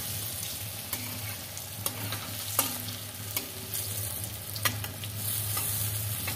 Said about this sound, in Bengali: আমি একটু উল্টে পাল্টে ভেজে নিচ্ছি।